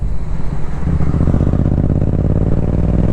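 A motorcycle slows on a quiet residential street, its engine note loud and close with a steady low rumble and faint clatter throughout.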